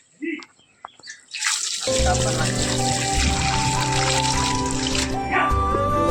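Water pours steadily from a tap or vessel, a sustained splashing gush starting after a few brief sounds and continuing loudly close by, with a voice speaking over it at times.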